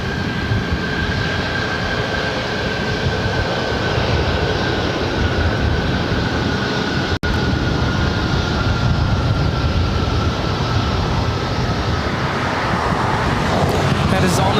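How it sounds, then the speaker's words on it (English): An All Nippon Airways Boeing 787-9 Dreamliner lands at LAX, its engines producing a broad, steady roar with a sustained whine that holds loud and close for over fourteen seconds. Talk runs alongside it. "That is All Nippon Airways Flight 126 coming in from Tokyo Haneda on the 787-9 Dreamliner"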